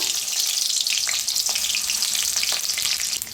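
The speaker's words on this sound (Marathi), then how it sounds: "पहिलं बटाटा आपण चांगलं फ्राय करून घ्यायचे तेलात" Potatoes fry in hot mustard oil in a kadhai, a dense, continuous loud sizzle with faint stirring scrapes underneath.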